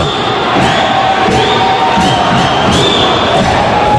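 Dense crowd shouting and cheering at a football match between Armação and União Castilhense, a steady loud roar with no pauses that swells in bursts throughout.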